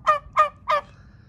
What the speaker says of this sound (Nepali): यो हल्को कुखुरा रहेछ